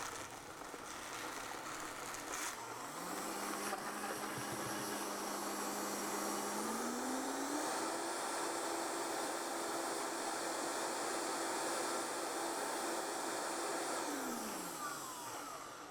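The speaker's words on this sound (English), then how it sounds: "now what we're gonna do is just blend this up until it's nice and creamy" A blender whirs a shallot and herb dressing until creamy, a steady loud motor drone that ramps up partway through, holds at a higher pitch, then spins down near the end, with no talking.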